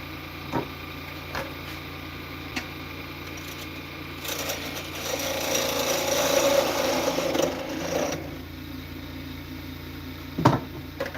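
A metal lathe parts off the knobby end of a workpiece, a steady grinding cut rising midway over a low machine hum, with a few light clicks and taps around it.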